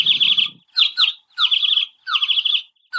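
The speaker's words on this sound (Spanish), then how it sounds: "Y el pájaro hace..." Bird chirping for a children's animal sounds lesson: repeated bright, rapid chirping phrases in four or five close, loud bursts separated by short pauses.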